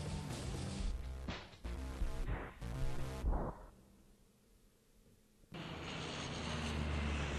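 Propeller airplane engine from the adventure game Geheimakte Tunguska, a steady droning hum that drops away to a quiet lull midway, then returns loud and sustained.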